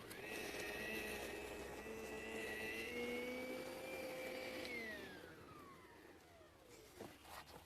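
Electric lawnmower with an adjustable cutting height and a grass box, running on turf with a steady whining motor tone that holds level, then winds down in pitch as it slows.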